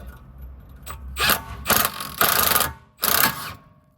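An impact gun spins a 15/16 socket onto a bolt on a 2014 Nissan Altima 2.5 S control arm, giving several short ratcheting bursts separated by brief pauses, close by.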